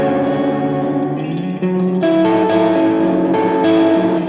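A distorted electric guitar chord rings through an Axe FX 3 multitap delay whose LFO modulation runs at full depth, with repeating echoes and a wavering, warbling pitch swell that pulses as new chords strike.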